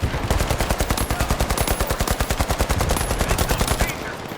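Sustained automatic gunfire from the video game The Finals: rapid, evenly spaced shots rattle loudly and steadily for nearly four seconds, then cut off abruptly into quieter background noise.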